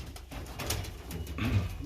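Pigeon coos from breeding loft birds, a blue check and a pied hen among them, murmur softly and continuously at close range, with a couple of fuller coos rising near the end.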